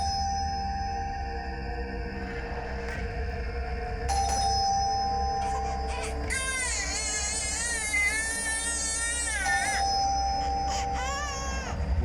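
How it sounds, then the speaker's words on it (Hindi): An electronic doorbell chimes repeatedly in a looping melodic pattern, fairly loud, over a steady background hum with no talking. "कब से घंटी बज रहा है, सुनाई नहीं दे रहा है क्या?"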